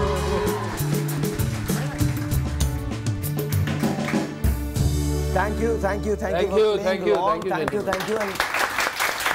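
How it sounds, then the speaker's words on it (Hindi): Studio audience applause on a live morning TV show, brief clapping under a host's talk, mixed with loud music and singing that dominate much of the stretch. "बहुत सारी तालियां"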